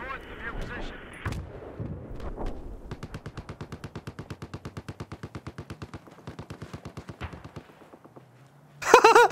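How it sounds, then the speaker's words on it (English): Beacon exploding in a video game: a rapid, even string of sharp blasting pops lasting several seconds, preceded by brief talk and followed by a louder burst of game noise. "Your beacon just exploded."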